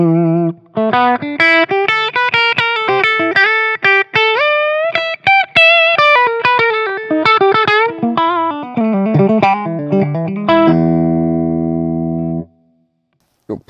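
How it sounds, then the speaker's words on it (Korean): Bacchus Global Series BSH electric guitar on its bridge pickup plays a quick, distorted lead line with many fast notes, then holds a ringing chord that cuts off abruptly. "브릿지 픽업 사운드입니다."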